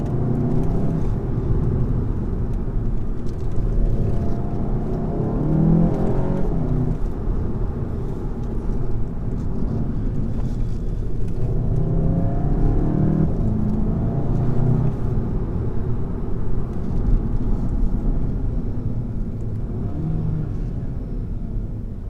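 A 2017 VW Golf GTI with a manual gearbox drives briskly along a B road, giving a steady, loud interior engine and road rumble throughout with slight rises under acceleration and no talk.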